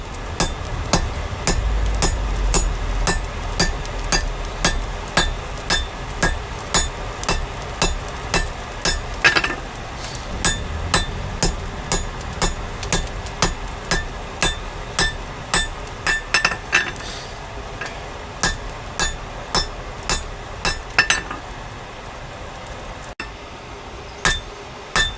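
Hammer blows forging a layered San Mai knife billet, about 40 layers welded, ring out one after another at a steady rhythm, sharp metallic clinks repeating loudly and close for the whole stretch.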